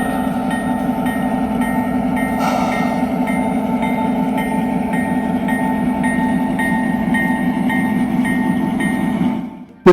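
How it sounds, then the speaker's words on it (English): Sound-equipped DCC model trains run on an outdoor garden railroad at a Denver museum, giving a steady, fairly loud rumbling railway drone with faint clicks, cutting off abruptly at the end. "audible sounds coming from the operating trains sync up directly as each train starts up, accelerates, brakes, and whistles for grade crossings"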